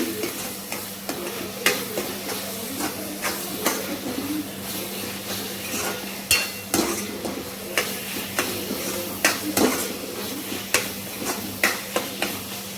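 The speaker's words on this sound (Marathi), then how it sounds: "अशी वाटणामध्ये छानपैकी चणा डाल, अशी फ्राय करून घ्यायची" Chana dal frying in ground masala for a spicy ridge gourd bhaji, a steady sizzle with repeated scraping stirs of a spoon against the pan at an irregular rhythm, close and without talk.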